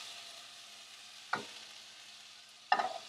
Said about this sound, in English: raise it just about an inch, maybe less off, and shake the pan like this